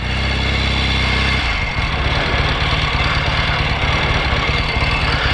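A 1963 Royal Enfield Interceptor motorcycle engine runs loud and close, first holding a steady low idle, then breaking into a rougher, pulsing throb as it revs or pulls away.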